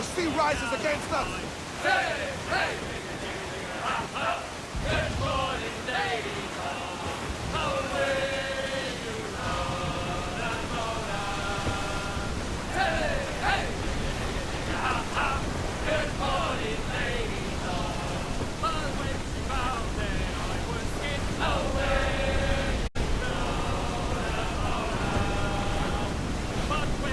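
Stormy sea waves in Assassin's Creed Black Flag roar steadily with loud surf and gusting wind, a continuous heavy wash around a ship while voices shout over the din throughout.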